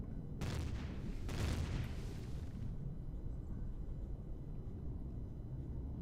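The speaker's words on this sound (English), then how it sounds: "point defense turrets are firing" Point defense turrets firing in the space game Empyrion: two loud broadband bursts in quick succession, then a low rumbling tail that fades into steady background noise.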